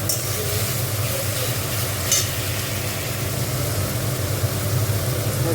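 Tomatoes fry in a pan with salt for a Bengali katla fish tail curry, giving a steady, fairly loud sizzle and hiss throughout, with occasional faint clinks from stirring.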